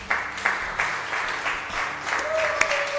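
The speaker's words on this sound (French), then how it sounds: "Est-ce qu'on peut acclamer la parole de Dieu?" An audience at a French-language prayer seminar claps to acclaim the word of God, a dense, steady applause of many hands sustained throughout, with a brief sung or hummed tone rising near the end.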